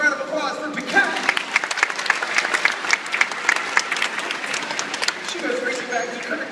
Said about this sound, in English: Have a big round of applause for Piquette.